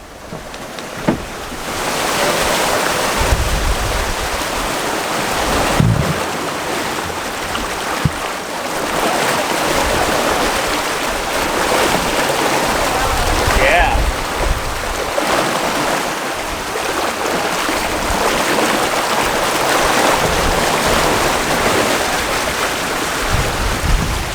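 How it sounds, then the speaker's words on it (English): Loud, continuous rush of water and surf streaming past a moving sailboat surfing down waves at sea, with wind buffeting throughout and a few knocks. "We're just surfing down these waves."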